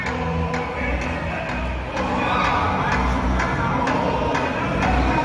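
A dense crowd at an amateur boxing match roars and cheers continuously with scattered shouts and whoops, loud and close throughout.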